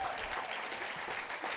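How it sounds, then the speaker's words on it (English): An audience at a festival of ideas applauds panelists walking onstage, a brief, quiet, steady patter of many hands clapping, heard alone without talk. "Big round of applause"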